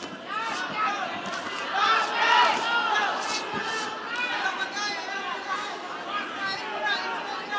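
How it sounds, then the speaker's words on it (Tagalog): A boxing crowd at a Blow by Blow pro bout roars and shouts continuously, urging the fighters on in the last round, with a commentator talking over the din. "The crowd urging both these fighters to give it all they've got."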